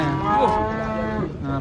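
A large, overweight breeding cow that can no longer get pregnant lets out one loud, close, drawn-out moo at a cattle unloading from trucks.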